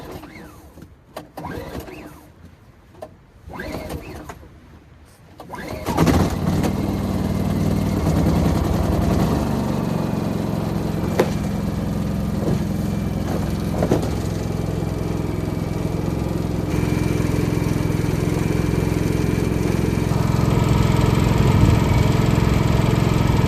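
A Champion 4650 inverter generator, a few pulls and sputters, then catches and settles into a steady, loud, even engine drone that keeps running unbroken close by.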